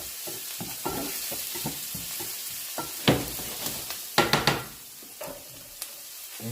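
Onions sauté in a pan while a spoon stirs them, a light sizzle broken by scraping strokes and a quick burst of clatters, close and with no talking.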